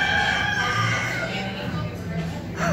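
A rooster crows close by in a long, strained call, partly masked by a crowd's murmur and background chatter, with other fowl calls trailing off near the end.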